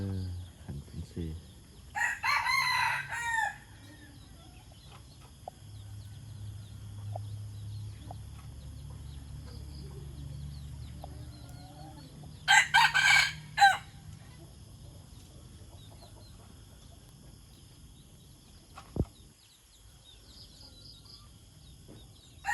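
A white decoy rooster crows twice, each call a loud, clear cock-a-doodle-doo close by, with softer clucks and a low background hum between the crows.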